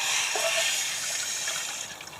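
Water in a pot heating over a campfire in the woods gives off a steady, close rushing hiss that holds evenly from start to finish.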